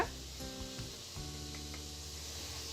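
Ground spices with turmeric powder frying in a pan for a chicken capsicum dish, a soft, steady sizzle with light stirring and scraping and a faint tonal hum in the background.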